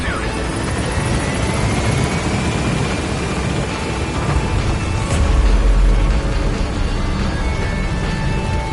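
A military helicopter in Metal Gear Solid V roars loud and close as it takes off and climbs, a dense rotor and engine wash with a whining turbine tone and no clear talk.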